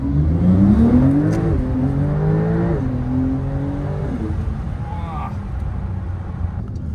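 A Porsche 911 Turbo S (992) engine revs hard and climbs through the gears, its rising roar loud and close before settling into a steady drone.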